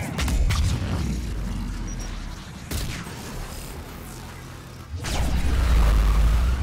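Heavy booms land at intervals in Mass Effect 3, each a sharp blast trailing into rumbling reverb, over a constant low mechanical din; loud and explosive like cannon fire.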